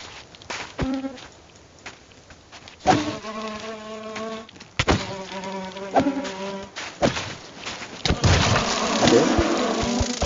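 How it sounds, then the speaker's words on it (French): In a Minecraft horror mod, a dense swarm of flies buzzes in repeated waves, droning loudly and close, with sharp impacts cutting in and the buzzing thickening toward the end. "Il me fait poursuivre par une horde de mouches spec là."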